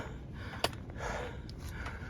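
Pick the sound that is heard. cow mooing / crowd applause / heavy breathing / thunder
heavy breathing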